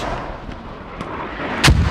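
A mortar fires with a deep, distant thump, then a sharp, louder launch boom near the end, set in the Squad military shooter game over low ambient battlefield rumble, with no talking.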